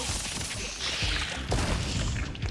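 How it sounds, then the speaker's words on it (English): Rapid, dense explosions in Honkai: Star Rail boom and crash one after another, loud and close, with heavy low-end thuds layered over a constant noisy rumble. "Hey, we have explosion sounds now."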